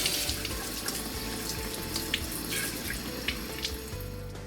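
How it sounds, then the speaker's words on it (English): Tap water runs steadily into a sink as dishwasher spray arms are rinsed under the stream, a continuous close splashing rush with faint drips and no voices. "run under running water to flush out any small particles"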